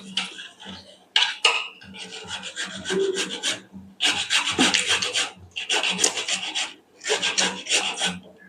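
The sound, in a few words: grating ginger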